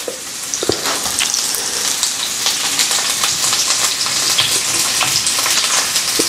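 Onions and fennel hit very hot oil in a vegetable pan, a loud, dense, continuous sizzle with scattered crackles and spits close by, no talking.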